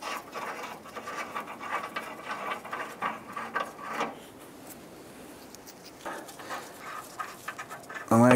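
A ratchet loosens the lower bolts of a front bumper on a 2011-2018 Dodge Ram 1500, giving close, rapid clicking bursts that pause and resume, with no talking.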